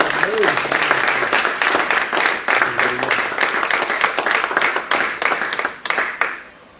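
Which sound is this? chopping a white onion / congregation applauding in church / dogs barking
congregation applauding in church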